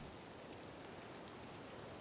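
Steady rain falls in the survival strategy game Dawn of Man, an even, dense hiss of drops with no other sounds over it.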